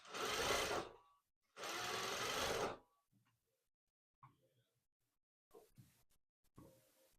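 A sewing machine stitches a seam on a criss cross top in two fast, whirring runs of about a second each, followed by quieter clicks and handling noises.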